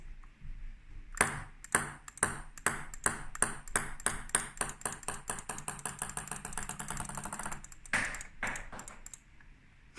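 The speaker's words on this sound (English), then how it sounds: "I had a little bouncing ping pong ball there, in case you didn't notice. That was a sound effect." A synthesized ping pong ball sound effect bounces repeatedly with sharp pings, the taps speeding up as the bounces shorten, then a final louder tap, faintly over a low hum.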